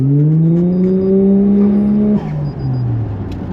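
A Toyota Chaser's 1JZ-GTE engine revs up in a smooth, loud climbing whine close by, then drops off sharply near the end, with no voices over it.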